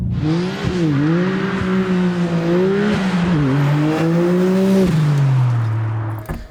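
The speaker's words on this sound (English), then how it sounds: "So this is me driving my first R33 ever" A Nissan Skyline GT-R R33 driven at a track, engine droning close and loud with its pitch rising and dipping through gear changes and revs, a steady inside-the-car roar that fades at the end.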